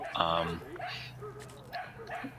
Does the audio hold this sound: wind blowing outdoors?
no